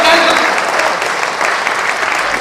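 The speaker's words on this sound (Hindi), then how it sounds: "एक बार जोरदार ताली से स्वागत करें" Steady, dense applause from an audience at a social justice forum gathering, loud and continuous throughout, with no speech over it.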